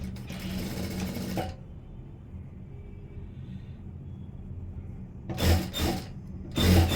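A sewing machine runs in quick rattling bursts while stitching blouse fabric along an edge, first a sustained run, a quieter pause, then two short bursts close by.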